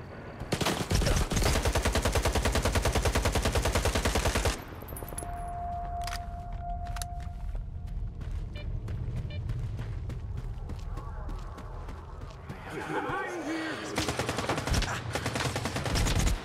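Gunfire in STALKER 2: Heart of Chornobyl, loud rapid automatic bursts dominating the first few seconds, then scattered single shots and clatter over ambient game noise, with a voice briefly heard.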